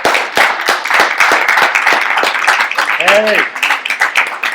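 A live meetup audience applauds a group of volunteers standing up, a dense run of sharp claps sustained throughout, with cheering and a shout over it.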